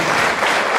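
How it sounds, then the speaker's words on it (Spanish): An audience claps steadily and densely at a Spanish-language stage show, a continuous wash of many hands applauding without a break. "Mira cómo te aplaude toda esta gente"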